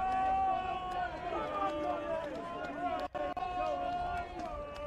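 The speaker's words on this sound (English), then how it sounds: "The crowd are really urging the Doncaster Knights now" A rugby crowd at a Championship match roars steadily, urging on Doncaster Knights against Cornish Pirates, with a sustained wash of voices and chanting and a commentator talking over it.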